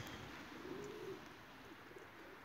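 A quiet, low racing pigeon coo rises once near the middle over faint background noise, the birds crated for a winter flight.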